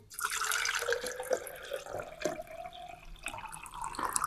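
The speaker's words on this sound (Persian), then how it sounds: "سپس در بیکری که دارای یک نل هست مقداری از آب اضافه میکنیم" Water poured into a spouted laboratory beaker during a buoyancy experiment, a steady splashing trickle running throughout, fairly close with no talking.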